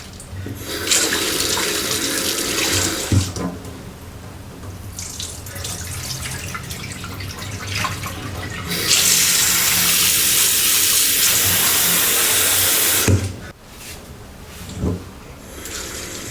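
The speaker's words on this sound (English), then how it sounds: "Rinse with water a few times to remove any dirt." Running tap water pours into a sink, splashing and gurgling as lentils are rinsed, swelling to a louder steady gush before cutting off.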